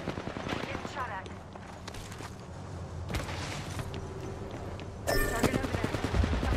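In a shooter video game, rapid machine-gun bursts and scattered shots sound under game noise, growing louder and denser toward the end, while a voice speaks over the action.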